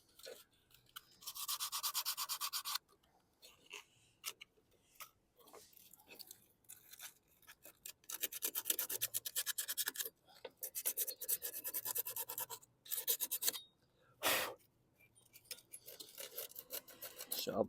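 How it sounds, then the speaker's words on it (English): Scaly rust is scraped off a 2013 Poulan Pro push lawn mower in uneven raspy bursts, some long and some short, with pauses between strokes at close range. "Just kind of getting rid of that rust,"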